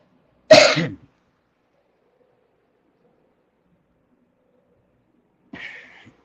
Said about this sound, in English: The drainage makes me cough because I can't stand anything like that tickle it gives you in the back of your throat